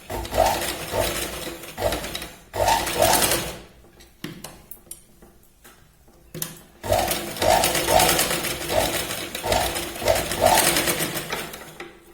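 Sewing machine stitching a Katori blouse, bursts of fast mechanical whirring and rattling that stop and restart, with a quiet pause in the middle, close and moderately loud.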